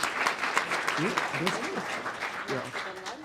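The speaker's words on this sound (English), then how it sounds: "last round of applause for our wonderful panel" Applause for a panel at a weekly community meeting, a moderate steady patter of clapping with voices talking over it throughout.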